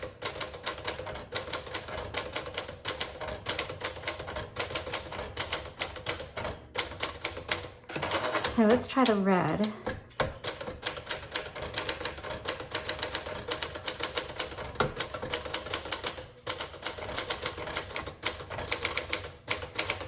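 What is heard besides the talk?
1950 Smith Corona Sterling typewriter typing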